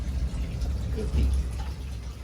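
Water pours steadily into a 1000-gallon pond set up in a basement, a continuous low rushing and splashing flow at moderate level, with a brief swell partway through and faint voice-like sounds mixed into the background.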